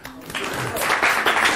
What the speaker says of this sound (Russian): аплодисменты звезде